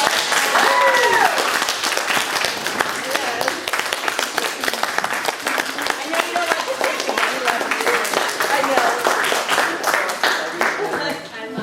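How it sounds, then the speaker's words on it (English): Audience applause at a senior recital: sustained dense clapping from a crowd throughout, close and steady, with voices calling out over it. "Can we get a round of applause for Miss Cindy Walton?"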